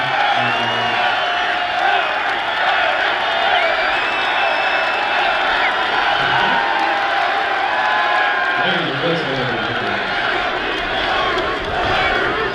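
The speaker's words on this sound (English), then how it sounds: "the crowd is chanting this photographer's name" A large crowd at a Formula Drift event chants and cheers a name in rhythmic, overlapping shouts, loud and continuous, with voices rising and falling over a roaring stadium-like background.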